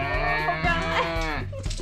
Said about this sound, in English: The cows are loud.